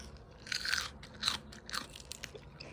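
Crisp bites into fresh homegrown lettuce, three or four close crunchy snaps spaced about half a second apart, followed by softer chewing crackles.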